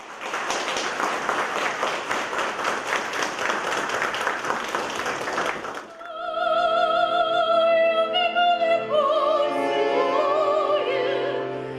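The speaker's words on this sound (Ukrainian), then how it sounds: "Кожен виступ супроводжувався гучними оплесками глядачів." Audience at a folk choir concert for naval sailors in Odesa gives dense, loud applause for about six seconds, then the clapping stops abruptly and sustained choral singing with instruments takes over.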